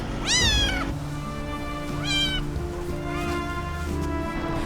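An injured kitten gives several high, wavering meows, each about half a second long and spaced apart, heard close and clear over a steady low background hum.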